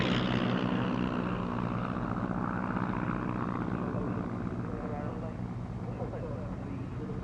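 A vintage Moth light propeller aircraft drones past at moderate distance during an airshow at Duxford, its engine steady and gradually fading, with a voice talking over it.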